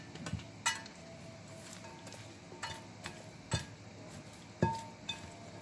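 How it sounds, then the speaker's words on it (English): A utensil clinks against a bowl while a side dish is mixed, giving sharp, close, irregular taps and scrapes spaced across the stretch amid quiet stirring, with no speech. "Mix this up and see how it looks."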